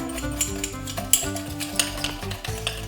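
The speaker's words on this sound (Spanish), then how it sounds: "Y empezamos a batir el azúcar." Sugar being beaten by hand with the first drops of freshly brewed Cuban coffee gives a quick, close series of scraping stirs and light clinks against the cup, with no talking.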